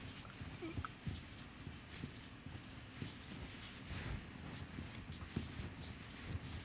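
Writing on a board during a lecture on housing affordability, faint rapid scratching strokes that come in short bursts over a quiet room hum.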